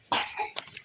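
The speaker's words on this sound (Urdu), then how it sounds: "کھانسی آ رہی تھی، میں نے اسے پانی دیا،" A child coughs after popcorn catches in the throat, one short, close, harsh cough burst followed by a weaker second hack.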